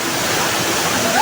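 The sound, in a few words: waterfall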